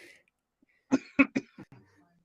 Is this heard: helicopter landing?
no